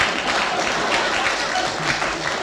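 Close, sustained clapping from a BBC radio panel-game studio audience, a thick continuous patter of many hands at a steady level, with no talking on top.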